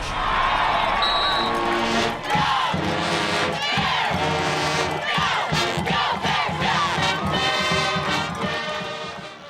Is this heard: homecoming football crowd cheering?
yes